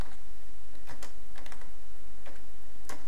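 Rapid, steady keystrokes on a computer keyboard while entering C programming code, close and clear with irregular clusters of clicks and no talking.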